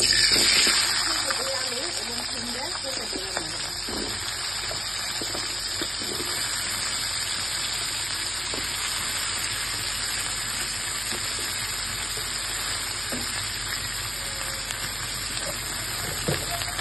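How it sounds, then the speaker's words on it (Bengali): Steady crackling sizzle of cauliflower frying in hot oil left from frying fish, continuous and close, with occasional faint stirring and a voice speaking briefly at the start. "মাছ ভাজা তেলে আমি ফুলকপিগুলি ভেজে নেবো।"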